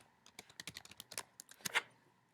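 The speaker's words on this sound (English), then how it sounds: "Sorry for my typing." Rapid, irregular clatter of keys on a computer keyboard, a burst of close, crisp taps with brief pauses and a couple of heavier strokes near the end; no voice.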